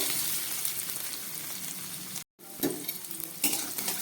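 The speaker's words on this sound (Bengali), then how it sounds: "আলুটাকে খুব ভালো করে ভেজে নেব।" Half-boiled potato pieces fry in a pan with a continuous crackling sizzle, stirred now and then, broken by a brief silent gap partway through.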